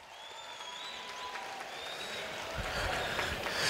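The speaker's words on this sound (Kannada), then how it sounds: "ಟಾಪರ್ಸ್ಗೆ ನಿಮ್ಮ ಜೋರು ಚಪ್ಪಾಳೆ" Audience applause for gold-medal toppers at a gathering, steady dense clapping that grows louder toward the end, heard alone without talk.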